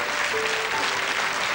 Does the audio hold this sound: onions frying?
no